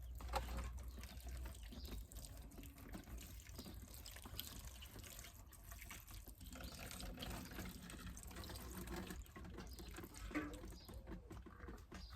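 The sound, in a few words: watering compost in a plant pot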